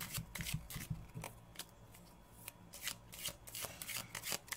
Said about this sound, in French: je vais tirer des cartes pour toi Didier, on va faire un petit tirage avec l'o